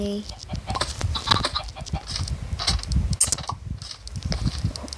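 Chickens clucking in Minecraft PE as a hen lays eggs, soft repeated clucks mixed with clicking keyboard-like taps and a voice talking over them.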